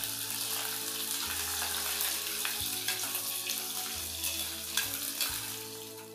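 Coarsely chopped onions fry lightly on a low gas flame, a steady close sizzle with faint stirring scrapes over a low, intermittent humming background.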